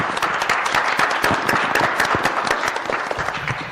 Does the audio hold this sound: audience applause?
yes